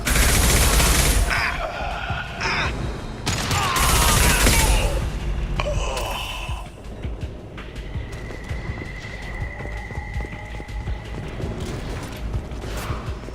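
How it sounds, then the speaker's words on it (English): Rapid bursts of sci-fi gunfire crackle in the Mass Effect 2 combat, loud and dense in the first seconds, then thinning into scattered shots over a steady whirring tone and mechanical hum. "Open fire!"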